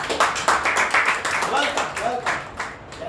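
Quick rhythmic clapping from a small audience at an institute gathering, close and lively, with voices talking over it.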